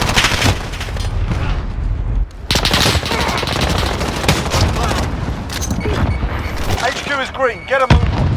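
Dense automatic gunfire and explosive bursts in the Call of Duty: Modern Warfare Headquarters match on the Rust map, loud and nearly continuous, with rapid rattling volleys, a short lull midway and a sharp blast near the end.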